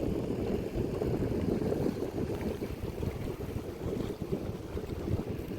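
Strong wind buffets the microphone beside a dam reservoir ringed by hills, a loud continuous low rumble of gusts with no talking.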